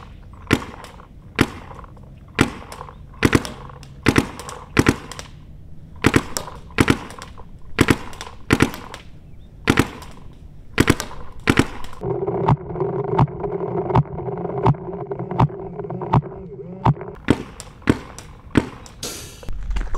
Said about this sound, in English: Just gonna kind of warm up with some snap shooting, shoot some cones and such